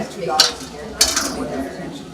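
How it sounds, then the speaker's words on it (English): A plate or tray is set down underneath in a kitchen, making two light clinks of crockery against a hard surface about half a second apart, close by. "now what I'm going to do is put a plate or a tray or something underneath"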